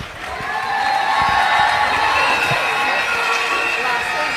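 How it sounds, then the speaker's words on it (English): A crowd cheers and shouts loudly, a sustained roar of voices with scattered clapping, building quickly and holding steady throughout. "A round of applause once again."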